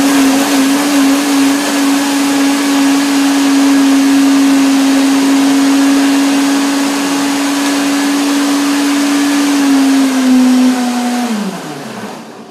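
A blender whirs steadily, loud and close, as it purées soaked, rinsed macadamia nuts. The motor holds one even pitch for about eleven seconds, then winds down near the end.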